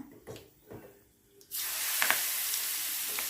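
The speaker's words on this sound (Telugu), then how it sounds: "ఈ తాలింపు ఈ పచ్చడిలో వేసుకుందాం" After a few soft clinks, a loud sudden sizzle bursts out as a hot oil tempering is poured into a peanut and greens chutney, hissing steadily and crackling until the end.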